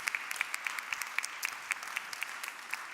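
A round of applause at the International Vienna Energy and Climate Forum for the entrepreneurs: steady, dense clapping from a seated audience in a conference room, with no talk over it.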